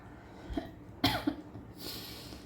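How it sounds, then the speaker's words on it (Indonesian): A few sharp, close coughs in quick succession, then quiet room noise. "Aku batuk loh."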